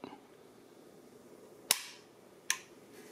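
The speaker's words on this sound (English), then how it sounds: "A little bit of take up, and then a really light break, and the reset." Trigger of an unloaded Arsenal SAM7SF-84E rifle: two crisp metallic clicks close by, the sharp break followed by a lighter reset click under a second later, against quiet background.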